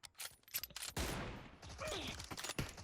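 Gunfire in the mobile battle-royale game PUBG Mobile: bursts of rapid shots and a sustained volley in the middle, with a voice talking between and over the bursts.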